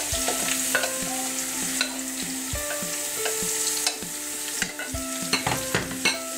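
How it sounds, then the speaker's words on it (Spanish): Chicken fries in olive oil and butter for risotto, a continuous close sizzle broken by regular spatula scrapes and taps against the pan, with faint tonal clinks throughout and no voices. "Y lo vamos a freír durante 5 minutos"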